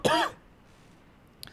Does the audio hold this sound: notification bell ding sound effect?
no